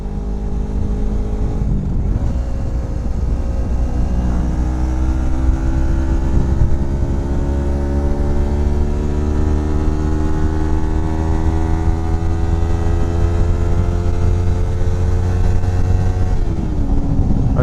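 A Kawasaki Versys X Tourer motorcycle engine revs long and high, its loud droning pitch climbing steadily through the gears for many seconds before dropping off sharply near the end, with no voices.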